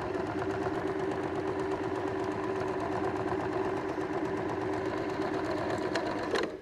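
A sewing machine runs a steady straight stitch, a close, even mechanical whir with a regular rapid needle rhythm that continues unbroken before stopping.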